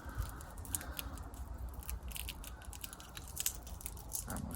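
Scissors snip the long tops off Sturon onion sets, giving a series of small, crisp, quiet cuts spaced irregularly against soft background rustle.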